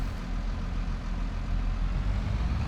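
A McCormick tractor engine in Farming Simulator 22 running with a steady, low diesel rumble that stays even and fairly quiet throughout, with no voices.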